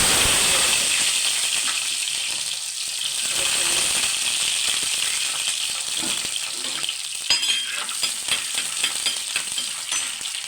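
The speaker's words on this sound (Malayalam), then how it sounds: "ഇതിനകത്തേക്ക് ഞാൻ കടുക് ഇട്ടിട്ടുണ്ട് കടുക് പൊട്ടുന്നുണ്ട്" Steady crackling sizzle of mustard seeds popping in hot oil, with scattered sharp pops and occasional clinks of a utensil, fairly close.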